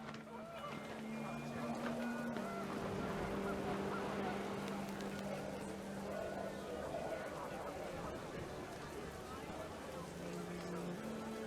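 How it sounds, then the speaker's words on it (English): Geese honk in panic, several calls rising and falling over a dense, steady bed of wind and rain noise, with a voice talking throughout. "panicked geese appeared and quickly went"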